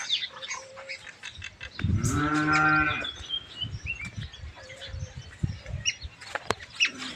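Cattle on a rural farm bellow near their shed beside the house and groundnut field. One long, loud, deep moo rises mid-clip over outdoor ambience with scattered birdsong and rustling.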